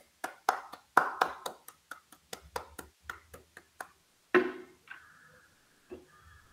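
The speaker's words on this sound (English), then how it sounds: "I would ask the audience to join me in giving the speaker a hearty round of applause" Sparse, scattered hand claps from a small lecture-hall audience at the Bose Institute memorial lecture, about a dozen distinct claps that thin out before a brief fading sound.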